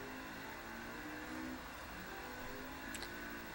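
Game car engine from Forza, a steady mid-pitched drone held through a tight turn, fairly quiet and continuous with slight revving swells and no talk.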